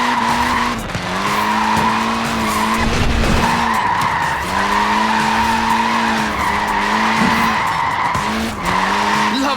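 A classic Mini, short-wheelbase and front-wheel drive, sliding in Forza Horizon 4, its tires squealing in long wavering howls over a buzzing engine, broken by brief gaps as the car regrips.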